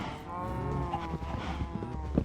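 Cows in a video game on a Minecraft-style server moo in a low, drawn-out call lasting a couple of seconds, close and fairly loud, alone without talk.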